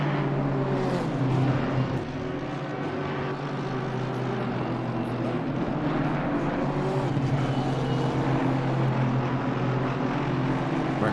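A race car in a sim racing game climbs the hill at Laguna Seca, its engine a steady, close drone that holds its pitch without a break throughout.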